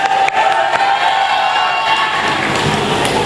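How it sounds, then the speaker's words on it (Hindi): A mushaira poetry gathering crowd in Muzaffarnagar roars with loud, continuous cheering and shouting, a dense crowd noise heard close up, with little distinct clapping showing through. "एक बार अपने लिए पुरजोर तालियां बजाएं"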